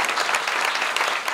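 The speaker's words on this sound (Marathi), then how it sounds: "पुन्हा एकदा जोरदार टाळ्या झाल्या पाहिजेत महाराज" Loud, continuous applause from an audience at a kirtan devotional gathering, dense clapping filling the whole moment without a break.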